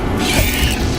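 Incendio fire spell cast in the Hogwarts Legacy video game: a loud, sustained whooshing roar with a low rumbling body, lasting about a second with no pause.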